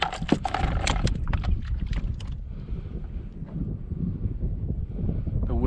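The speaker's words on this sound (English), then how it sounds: "The wind just now picking up." Wind picks up on the water during a trout fishing trip, a rough, steady rumble buffeting the microphone close up with faint splashy noises over it.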